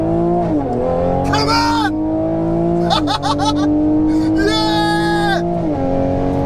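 A stage 1 450 bhp Audi RS3 and a stage 2 460 hp Toyota Supra launch in a drag race, engines revving hard with repeated gear-change surges and tire squeal, loud and close, while a voice shouts excitedly over the roar.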